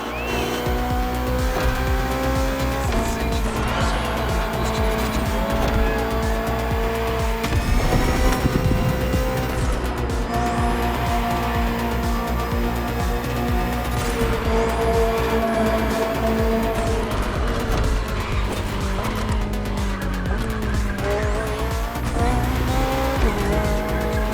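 The BMW M Hybrid V8, a 2023 endurance race car, is driven in The Crew Motorfest: a loud, continuous engine howl rises and falls through gear shifts, with tires squealing and skidding through corners.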